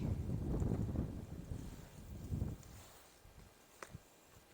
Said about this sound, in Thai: ลมแรงนะคะตอนนี้